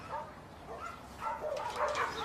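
A dog caged on a truck yelps and whines in short, high cries that grow louder toward the end, heard against a muffled background with some voices in it.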